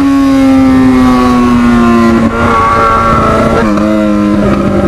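A white Yamaha XJ6 motorcycle roars loudly and close in a steady high drone, its pitch dipping and shifting as the throttle changes twice, with no voices over it.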